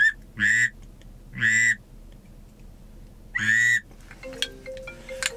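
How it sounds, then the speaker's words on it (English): A drake whistle duck call is blown in three loud, clear whistled peeps spaced about a second apart, followed by faint rustling and handling noises. "Of course, I got my Drake whistle."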